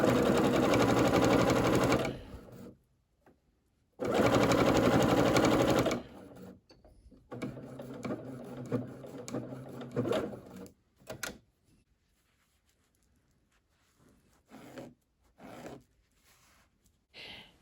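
A sewing machine stitches a quilt-as-you-go coaster in two loud bursts, then runs in shorter, quieter spurts broken by pauses and small handling clicks.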